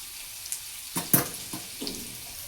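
Soybean chunks fry in a pan for soyabean chilli. A quiet sizzle runs underneath a few sharp crackling bursts and spatters, with one louder pop near the middle.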